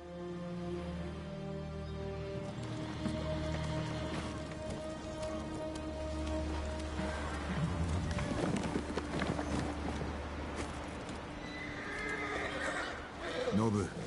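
A horse wearing Sakai horse armor in Ghost of Tsushima on Iki Island whinnies and snorts, with hoofbeats and falling rain around it and someone speaking over part of it.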